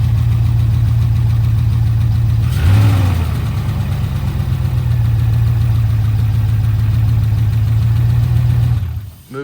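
Engine of a police auction vehicle running after a jump start, idling loud and close with a steady low hum, one short rev early on, and then cutting off at the end.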